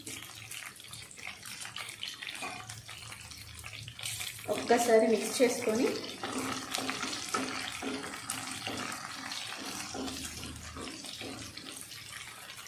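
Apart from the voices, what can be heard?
green chillies frying in covered pan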